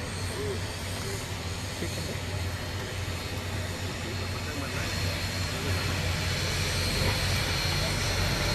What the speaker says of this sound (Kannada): ಇವತ್ತಿನಿಂದ ವಿಮಾನ ಹಾರಾಟಕ್ಕೆ ಆರಂಭ ಆಗಿದೆ